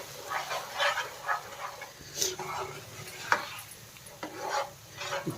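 A spoon stirs a brinjal and green pea gravy with onion, green chilli and curry leaves in a pan, giving soft repeated scraping and rubbing strokes close by, fairly quiet and irregular.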